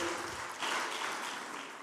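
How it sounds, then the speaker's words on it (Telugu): A church congregation claps together in praise of God, producing a dense, steady burst of applause that runs evenly throughout at a moderate distance. "కనుక అందరూ ఒకసారి చప్పట్లు కొట్టి దేవుని స్తుతిద్దామా"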